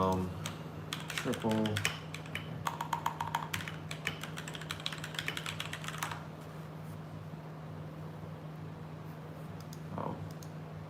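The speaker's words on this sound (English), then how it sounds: "I type in Dallas pressure wash" Rapid clicking keystrokes on a computer keyboard typing a search, in dense bursts for the first six seconds, then quiet with a brief voice near the end; a steady low hum runs underneath.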